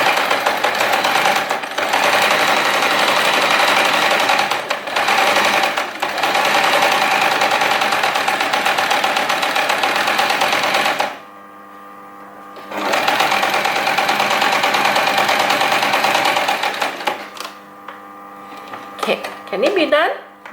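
A basic sewing machine stitching a seam along the fabric edge, a fast even mechanical chatter in long runs broken by two brief pauses, with quiet talk in the gaps.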